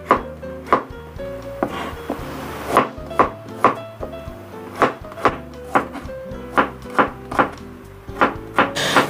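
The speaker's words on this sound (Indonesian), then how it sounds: "Jadi semua cukup diiris-iris saja, tidak ada yang di blender ataupun diulek ya." Shallots, onions, leek and ginger are sliced with a knife on a wooden cutting board, giving a steady series of crisp, close chopping thunks in an irregular but quick rhythm.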